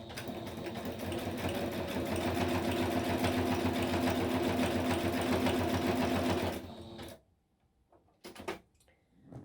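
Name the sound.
sewing machine stitching paper for a guest book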